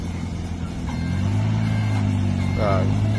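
A 1.5-ton gasoline forklift engine runs close by with a steady low hum that firms up after the first second, and a short tonal blip sounds near the end.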